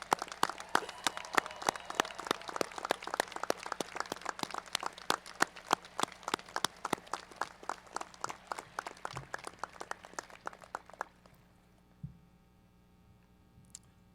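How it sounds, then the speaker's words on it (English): Applause at a Coast Guard Academy commencement ceremony for international graduates rises as steady, sharp clapping that thins into scattered claps and fades into quiet after about eleven seconds. "Would you please join me in a round of applause for our international shipmates?"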